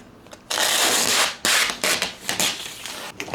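Plastic protective film peeled off a teleprompter in a few bursts of dry crackling and rubbing, close and fairly loud, with short pauses between pulls.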